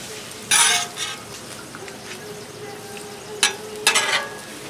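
Taco meat cooks in oil on a Blackstone griddle, a steady low sizzle underneath several loud bursts of hissing spatter and scraping, heard up close with no talking.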